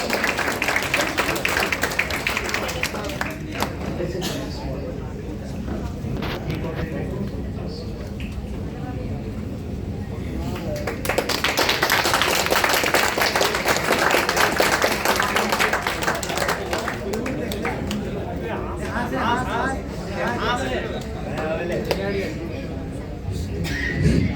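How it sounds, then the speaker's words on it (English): Applause from an audience at an awards and certificate distribution ceremony for the Aliah University Science Camp-2025, a long, steady wash of clapping mixed with crowd noise and talk, swelling louder partway through. "Give a big round of applause."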